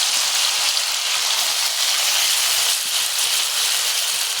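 Steady, loud sizzling hiss of french fries deep-frying in hot oil, continuous throughout with faint crackles and no voices.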